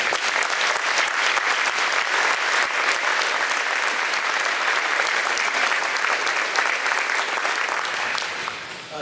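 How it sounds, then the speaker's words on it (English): Steady, full-room audience applause at a People's Choice award event holds evenly for several seconds with a bright, crowded patter, then tapers slightly at the end. "So let's give them a big round of applause"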